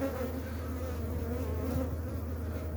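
Honey bees buzz steadily at a beehive, a continuous close drone that holds alone throughout.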